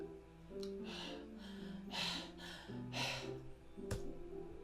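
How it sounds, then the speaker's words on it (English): A video game scene down a school hallway carries several sharp, breathy inhales, like air sucked through teeth, spaced about a second apart over a low, sustained tonal backdrop. "It sounds like breathing. A sharp inhale, like someone is sucking the air through their teeth."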